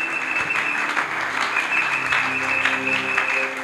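A church congregation applauds and cheers to acclaim the Lord during a Sunday service, steady and loud throughout, with a few voices calling out over the applause.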